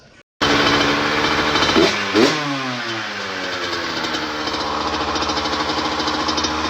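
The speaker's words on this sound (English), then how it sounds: "So now that you can see that the bike is running" A motorcycle engine that has just been brought back to running idles steadily and loudly up close, with a brief rev bump partway through and a continuous rattling, buzzy tone throughout.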